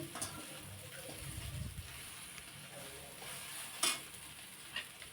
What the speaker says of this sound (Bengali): পেঁয়াজ ভাজার সাথে সাথে ঢ্যাঁড়স আর আলুটাও আমার কিন্তু একই সঙ্গে ভাজা হয়ে যাবে